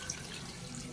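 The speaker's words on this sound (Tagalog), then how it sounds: "lalagyan na natin siya ng tubig" Water pours steadily into a soup pot for a single continuous second, a close, even rushing splash with no voices.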